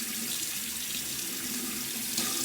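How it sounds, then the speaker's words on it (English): A sink faucet runs hot water in a steady, close, continuous stream, with no voices over it. "let me just wait for a second for my water to heat up."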